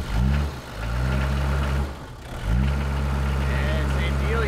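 A 40-year-old car's engine idles with a low, even hum, sags twice as if about to stall, then catches and settles back to a steady idle, with a voice speaking over it late on.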